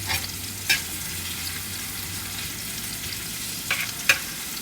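Garlic and onion sauté in a pan, an okra and tofu stir-fry in the making, with a continuous close sizzle and a few quick spatula scrapes.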